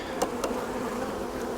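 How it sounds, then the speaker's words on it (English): Agitated honeybees buzz around an opened hive in an apiary, a dense steady hum close by, with a couple of brief sharper sounds near the start. "barn bees are starting to get a little aggravated with me"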